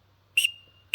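Two short, shrill whistle blasts from the whistle on a TDA Teal Duo duck call, loud and close, with a thin sustained tone lingering between them.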